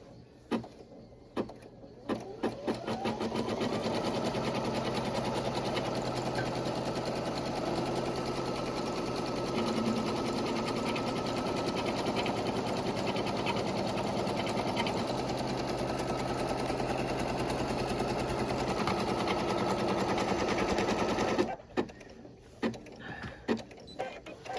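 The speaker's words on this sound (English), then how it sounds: "it's going to do the placement line for the fabric" An embroidery sewing machine stitches a placement line on fabric with a steady, fast, close mechanical whirr that runs for about twenty seconds, framed by a few clicks and knocks at the start and end.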